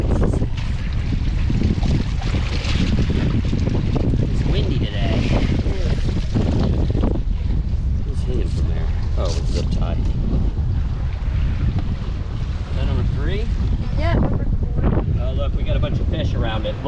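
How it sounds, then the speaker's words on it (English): Strong wind buffets the microphone in steady rumbling gusts at a waterside oyster farm in Florida, loud and constant throughout, with people talking over it. "It's windy today."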